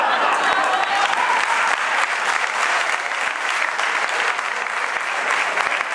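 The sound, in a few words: audience applause at a political event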